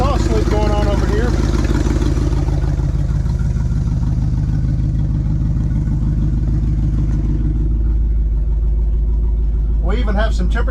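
Old Ford truck engine idling with an exhaust leak, a loud close rough rumble that holds steady throughout, with someone speaking over it at the start and end.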